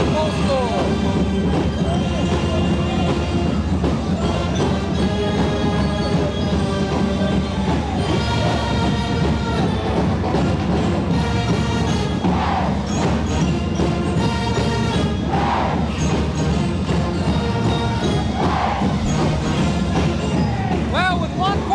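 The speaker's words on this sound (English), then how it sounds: "let the band and the crowd take over" A pep band plays and a crowd cheers at a 1992 high school basketball game between PHN and PHHS, sustained loud brass tones over a thick roar of voices, with surges of cheering.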